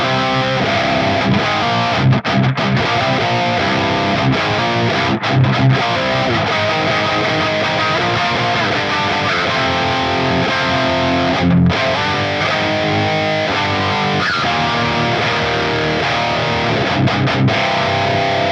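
A Squier J Mascis Jazzmaster electric guitar played through a compressor, distortion pedal, amp and cab, giving a loud, dense, continuous distorted riff with brief stops between chords.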